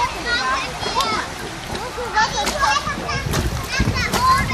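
A child splashes in cold water at an outdoor natural pool with a big slide, making repeated close splashes while children talk and shout throughout.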